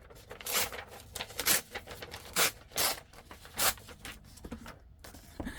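Paper is torn for a collage, with short ripping bursts repeated at irregular intervals close by, separated by quieter handling rustles.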